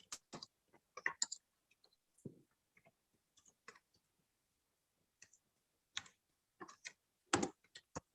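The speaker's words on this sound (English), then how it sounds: "Is that you typing or somebody else?" Typing on a computer keyboard during a home video call, heard as irregular bursts of clicking keystrokes with pauses between them, close to the microphone and fairly quiet, with no voices.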